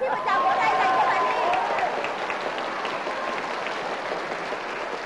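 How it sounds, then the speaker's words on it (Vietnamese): Studio audience at a Hanoi TV picture-word puzzle game show breaks into steady applause for a contestant, a dense wash of clapping that peaks early and holds, with a voice briefly heard over it. "xin một tràng vỗ tay dành cho bạn Ly"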